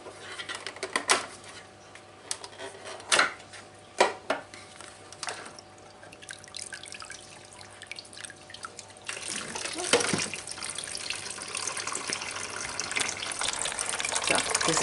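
Water pouring out of an opened aquarium canister filter into a bucket, with intermittent splashes and knocks at first, then a steady rushing gush toward the end.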